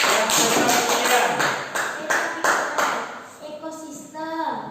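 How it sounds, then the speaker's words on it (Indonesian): A classroom of students applauds at the teacher's prompt during an ecosystem lesson, a dense run of quick claps with rhythmic bursts, fading into scattered taps toward the end. "beri tepuk tangan dulu"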